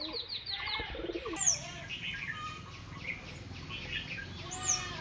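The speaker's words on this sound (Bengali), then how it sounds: "আর সব ডাকাডাকি করছে দেখো পায়রাগুলো" Pigeons kept in a loft, some inside and some out, call and coo repeatedly under higher chirps from smaller birds, a continuous mix of near and farther calls with no talk.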